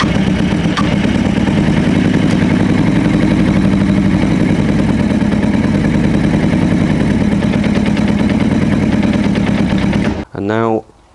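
A Honda CB600F motorcycle engine with a long-running recurring fault runs loud and steady with a rough mechanical clatter for about ten seconds, then abruptly cuts out, leaving a brief sputter and quiet.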